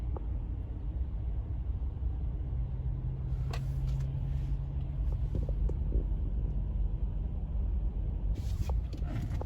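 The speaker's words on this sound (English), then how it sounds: "Yeah, the truck is moving off that way." A truck and other traffic rumble past beneath a road underpass, a steady loud low roar of engines and tyres with a brief hiss like an air brake near the end.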